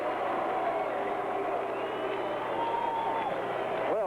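A 1976 ballpark crowd in Baltimore, Royals at Orioles, greets Reggie Jackson stepping to the plate with a sustained, fairly distant roar, faint tonal sounds drifting over it.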